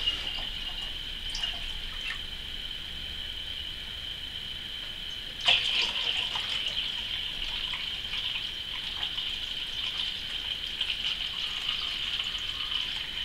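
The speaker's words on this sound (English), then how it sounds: "Take our nice hot water and add it to the cold water" Hot water poured through a funnel into cold water for a sugar wash base, a steady close trickling stream with a sharp splash partway through, continuing without speech.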